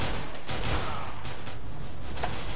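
Gunfire in the video game CS:GO Arms Race, a steady loud clatter of shots filling the scene with a few sharper bursts, no speech over it.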